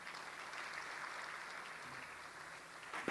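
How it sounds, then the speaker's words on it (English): Faint, steady applause from an awards ceremony audience saluting a winning science team, a soft continuous patter of many hands with a slight swell at the very end. "a round of applause for the team"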